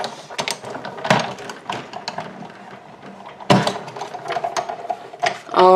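Card run through a die cutting machine to cut a stitched oval window: close mechanical clicking and ratcheting bursts with sharp clunks, uneven in rhythm, with no talk.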